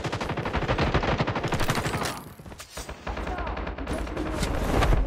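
Rapid bursts of automatic gunfire in Call of Duty Mobile battle royale, loud close shots in a fast rhythmic stream, a short lull, then more firing and impacts to the end.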